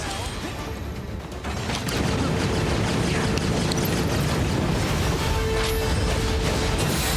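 A Nova Bomb attack in Final Fantasy VII Rebirth, fought solo as Zack, swells from a rumbling build into a loud, sustained crashing explosion, with dense booming impacts and clatter that fill the rest of the clip.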